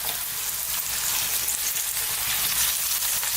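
Lamb or mutton pieces with garlic fry in a hot pan for a curry, giving a steady, close crackling sizzle with no talking.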